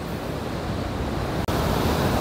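Sea waves break against rocks on the Sardinian coast during a brief storm, a loud, continuous roar of surf and wind with a momentary dropout partway through, and no voices.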